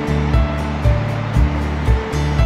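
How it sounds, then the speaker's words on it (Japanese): Ocean waves break and surge along a scenic coastline, a steady roaring wash with a few stronger swells rising periodically, close and loud with no voices. "美しいですね、あの波の感じとか。"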